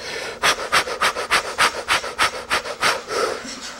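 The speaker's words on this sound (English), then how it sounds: "Come on, a little more breathing." Deliberate, rhythmic breathing during a guided exercise, a dozen or so quick, even breaths in a steady pattern, close and clear with no talking.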